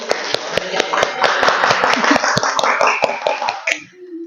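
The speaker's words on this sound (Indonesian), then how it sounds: "Beri tepuk tangan semuanya." Classroom of students clapping hands together in a rhythmic, evenly spaced beat for about four seconds, loud and close, then stopping abruptly, with a faint hum of voices underneath.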